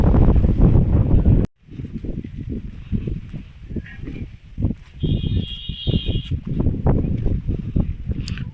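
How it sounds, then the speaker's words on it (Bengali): Strong wind buffets the microphone at a hilltop viewpoint above a village near Kalimpong, roaring in loud, uneven gusts, with a brief drop out and a faint tone drifting in the background. "প্রচন্ড হাওয়া এখানে।"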